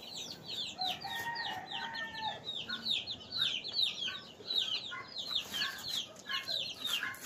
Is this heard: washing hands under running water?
no